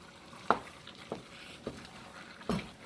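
Sausage with celery and onion cooking in butter in a pan, soft sizzling under four distinct scraping stir strokes spaced about half a second apart, quiet and close.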